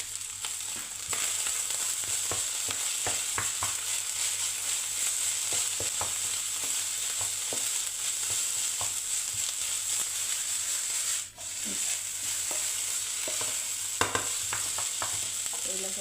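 Garlic powder frying in a pan for Chinese fried rice, with a constant close sizzle broken by soft scraping and tapping as a utensil stirs, and no voices.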